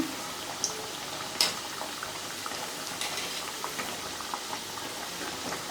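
Farsi puri, a crisp Gujarati fried snack, bubbling in oil over a medium flame, giving a steady soft fizzing with scattered small pops and one sharper crackle near the start, with no talking.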